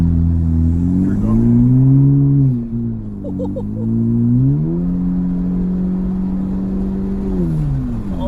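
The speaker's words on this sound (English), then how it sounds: "The power, the air that gets sucked up in the car air intake." A 2018 Honda Civic Hatchback engine revs up and settles, its steady intake roar rising and falling in pitch twice, loud and close with no talk over it.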